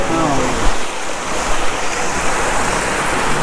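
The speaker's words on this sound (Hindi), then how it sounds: "अब हम आपको लेके चलेंगे जो इसके जस्ट बगल में एक छोटी सी नदी है।" A small mountain river flowing right beside the Jageshwar Dham temple in Uttarakhand makes a loud, steady rushing wash of water that fills the whole stretch without pause, close by and unbroken.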